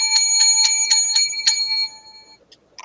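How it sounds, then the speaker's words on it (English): A small handheld bell rung in quick bursts, about six bright metallic strikes in a steady rhythm, then the ringing tone fades out, leaving a couple of faint clicks near the end. "ring my bell, ding-a-ling-a-ling"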